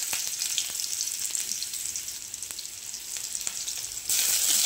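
Onion, ginger, dry red chilli and bay leaf frying in hot oil in a pan, a steady close sizzle with several light stirring taps, growing louder at the end.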